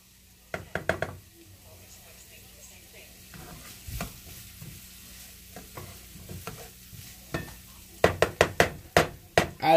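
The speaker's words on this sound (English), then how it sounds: "I like to bang my pots." Metal cooking pots clang and knock in a home kitchen while chicken and rice taco enchiladas are prepared, with scattered hits early on and a quick loud run of bangs near the end over a quiet background hum.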